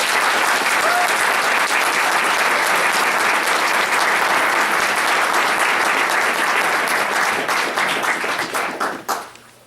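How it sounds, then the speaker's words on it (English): A school board meeting audience gives students a big round of applause, loud sustained clapping from many hands that holds strong and then tapers off near the end. "So just a big round of applause for those students."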